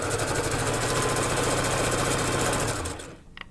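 A sewing machine runs a loose zigzag stitch while converting shorts into flowy pants, a steady close whirring hum with rapid needle rhythm that holds for about three seconds, then cuts off and leaves near silence.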